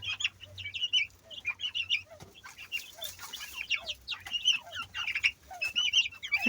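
Domestic chickens cluck and chirp in a busy flock close by, with soft wing flaps among the calls.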